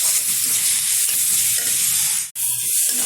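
Spices, salt and other ingredients stir-fried together for mutton curry, a loud, dense, continuous sizzle close up, briefly cutting out for an instant near the end.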